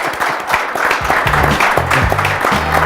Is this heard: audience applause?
yes